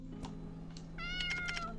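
A house cat meows during a live stream, giving a couple of short calls over a steady low electrical hum, followed by a longer, clearer, tonal meow that sits fairly close but quiet.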